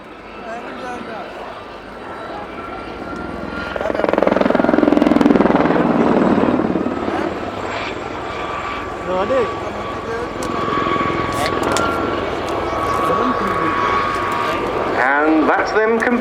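Gazelle helicopters of the Gazelle Squadron display team fly an airshow routine at Cosford, their rotor drone swelling louder mid-pass then holding steady at a distance, with a commentator talking over it throughout.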